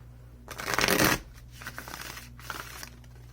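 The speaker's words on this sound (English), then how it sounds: "The Fountain Tarot is just such a good shuffler." A Fountain Tarot deck gives a loud, dense riffle lasting under a second, then softer bursts of cards sliding and settling, all close and without speech.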